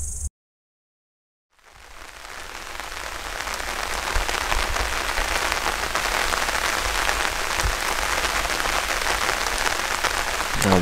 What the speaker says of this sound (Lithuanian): sėdim po tento ir pliušė lietos